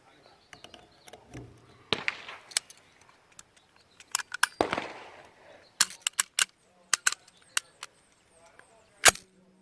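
An old gun fires several sharp, close shots at irregular intervals outdoors, with people talking between the reports.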